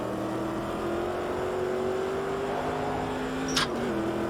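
Race car engine in the Automobilista 2 racing game, a steady droning hum at moderate level that holds its pitch while easing on the throttle, with a brief higher whine near the end.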